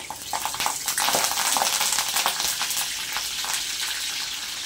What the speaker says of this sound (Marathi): थोडंसं तेल गरम झालंय, त्याच्यामध्ये आता आपण कढीपत्ता घालून घेऊया